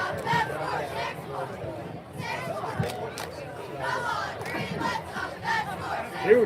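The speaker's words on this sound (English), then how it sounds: "Huge crowd here at Mustang Stadium tonight." A large crowd at a high school football game at Mustang Stadium keeps up loud cheering and chatter with bursts of shouting from the student section, and an announcer's voice runs over it.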